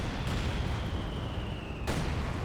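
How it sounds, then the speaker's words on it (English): A high-explosive mortar barrage from emplacements in Company of Heroes 2 rolls on as a continuous wash of rumbling battle noise, with one sharp, loud blast cutting in near the end. "He's using the high explosive barrage, the high yield barrage from the mortar emplacements."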